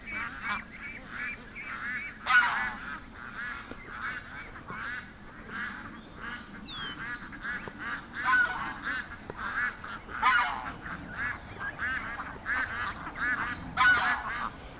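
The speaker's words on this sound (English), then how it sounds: "That's the noise they make when things aren't right." Panicked ducks keep up a restless flock chorus of harsh, nasal quacks and honks, several birds calling over one another at close range in uneven bursts.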